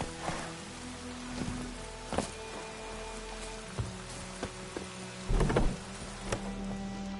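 Rain falls in the Witcher 3 video game, a steady hiss of rainfall with scattered louder drip and splash hits and faint tonal background music.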